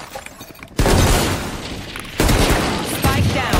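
Rapid, loud gunfire bursts from a ranked Valorant match, with dense crackling shots and sharp impacts arriving in overlapping volleys that fill the moment at close range.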